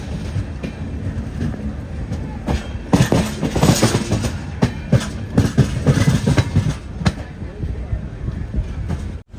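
A passenger express train, the Mangala Lakshadweep Express, rolls toward Shoranur Junction railway station, heard from inside a sleeper coach: loud, close wheel rumble and rhythmic clickety-clack over rail joints, with faint voices in the background.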